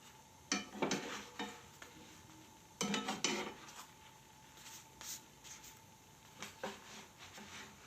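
Breakfast burritos being flipped to toast in a pan: a few scattered bursts of scraping and clattering from spatula and pan, with quiet pauses between, over a faint background hum.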